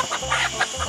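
Chickens near their coop at night cluck in quick, close bursts, four short calls over a low steady background hum, no talk.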